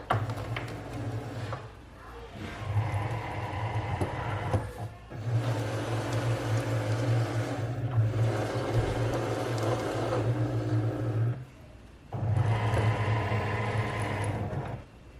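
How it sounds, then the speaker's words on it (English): Cricut cutting machine loading and registering a cutting mat: bursts of close motorized whirring and humming, pausing briefly between runs, with no talking. "Okay, now we're gonna load it onto our Cricut. We're gonna hit the load button."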